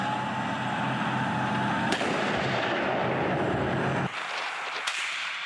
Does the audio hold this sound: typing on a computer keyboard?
no